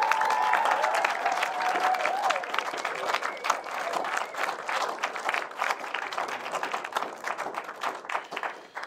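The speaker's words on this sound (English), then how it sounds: "one last applause for them" At the B'Oscar awards ceremony, an audience gives sustained applause with many hands clapping, loud at first and gradually thinning and fading toward the end.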